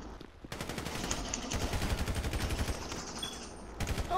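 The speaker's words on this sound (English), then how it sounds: "I don't know how I just shot this nigga through a wall." Sustained gunfire during a GTA crew battle: a dense, rapid automatic burst, loud and close, running for several seconds after a short quieter lead-in.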